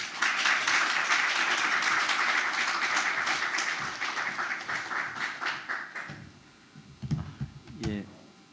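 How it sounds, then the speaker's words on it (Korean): A church congregation applauds to welcome a visiting missionary pastor to the pulpit, loud sustained clapping for about six seconds that thins out and fades, then a voice begins speaking. "우리 목사님 나오실 때에 박수로 목사님 환영하겠습니다"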